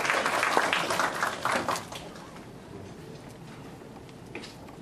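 A hall crowd applauds to welcome party chairman Su at the opening of a Democratic Progressive Party seminar, with a brief burst of scattered clapping that fades after about two seconds into quieter room noise.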